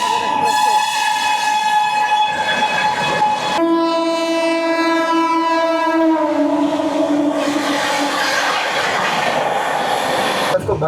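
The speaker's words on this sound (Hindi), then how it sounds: "अब आ रही है डिब्रूगढ़ राजधानी ओवरटेक करने के लिए मगध एक्सप्रेस को।" Dibrugarh Rajdhani train overtaking the Magadh Express, its loud horn blaring in long sustained blasts with changing pitch over steady rolling rail noise, heard close from alongside.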